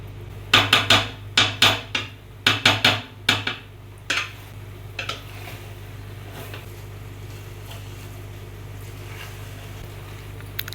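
Pasta being stirred into masala in a pan: about a dozen sharp, quick scraping knocks of a spoon against the pan come in rapid bursts, then fade to occasional faint taps over a low steady background hum.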